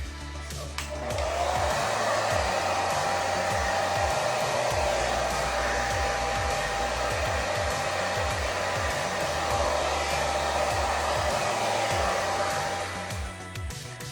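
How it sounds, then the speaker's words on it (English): A hair dryer fitted with a diffuser runs steadily for over ten seconds on curly hair, a loud constant whir with a low fluttering rumble, no voices. "after diffusing for a while, which I regularly do with other products"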